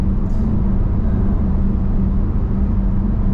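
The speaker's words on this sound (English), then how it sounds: "It seems to be going the other way, all this traffic." Low rumbling road noise from cars on a quiet country road, a steady drone with a persistent low hum and no distinct pass-bys or voices.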